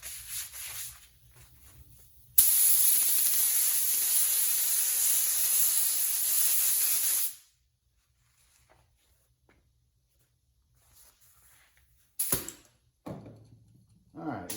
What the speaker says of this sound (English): Now let's spray the Landau top foam.